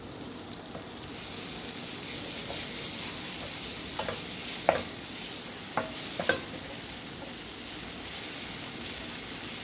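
Finely chopped tomato fries in a pan with a soft, even hiss, broken by a few sharp clinks and scrapes as it is stirred. No voices.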